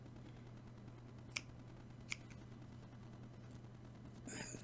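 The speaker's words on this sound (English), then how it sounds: "Now I'm going to snip this end." Scissors snip off a yarn end during crochet work, two crisp, quiet cuts a moment apart over a low steady hum, followed by a faint rustle.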